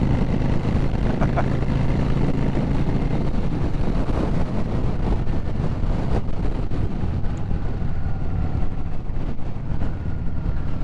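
Steady, loud wind buffeting rumbles throughout while riding a Yamaha V Star 650 motorcycle, with a low engine drone underneath and no voices.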